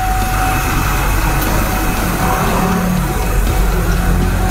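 A loud new electric fan whirs at close range, a steady, unbroken drone with a faint constant tone running through it and no talking.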